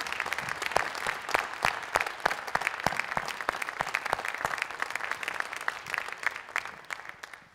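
An evening audience at a charter school film screening applauds veterans, a sustained crowd applause with distinct individual claps standing out, steady and moderately distant throughout.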